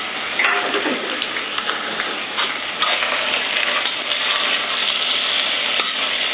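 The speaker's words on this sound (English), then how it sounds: "I'm stirring this round. Just so it doesn't stick to the pan." Chicken and melted butter sizzling in a plain, non-stick-free pan for butter chicken, a dense crackling fry with scraping stir strokes, steady and close with no voices.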